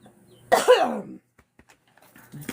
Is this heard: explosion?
no